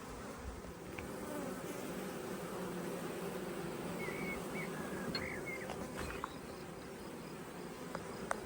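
A honeybee swarm buzzing outdoors during beekeeping, a dense, steady drone of many wings that holds throughout, with a few brief nearer passes and small clicks on top.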